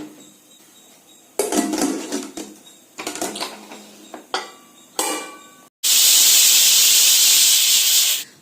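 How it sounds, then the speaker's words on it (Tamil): A pressure cooker cooking toor dal in a kitchen: scattered clinks and clatters of utensils, then a loud, steady hiss of escaping steam that lasts a few seconds before cutting off. "குக்கர் மூடி போட்டு மூடிங்க. 4 விசில் விட்டுறலாங்க."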